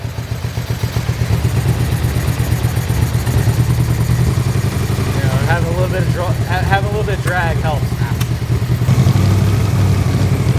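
A Yamaha Vmax motorcycle engine, running without an airbox, throbs steadily nearby and revs up toward the end, while a person talks over it.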